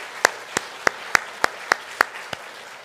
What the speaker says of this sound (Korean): 감사 박수 한번 주세요.